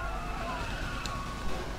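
A police car siren wails through a chase in the Need for Speed Most Wanted racing game, a steady, fairly loud electronic tone held over engine rumble without a break.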